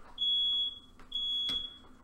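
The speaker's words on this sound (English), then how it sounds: "I don't understand why it's beeping when it doesn't even look smoky in here." A kitchen smoke alarm sounds two long, piercing electronic beeps separated by a short gap, with a soft knock in between and the room otherwise quiet.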